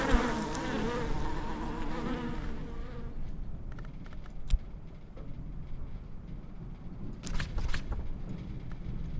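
Insect buzzing from bees in the video game Book of Hours, a droning hum that is strongest at first and then thins into a quieter background buzz with faint clicks.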